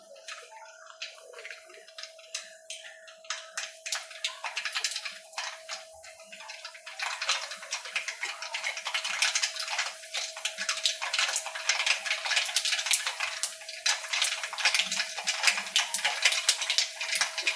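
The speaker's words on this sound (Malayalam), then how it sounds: "കടുക് പൊട്ടി നമുക്കിനി വെളുത്തുള്ളി ഇടാം" Mustard seeds spluttering in hot oil for mango pickle, a dense spray of sharp crackles and pops that thickens and grows louder after the first few seconds, over a faint steady hum, with no talking.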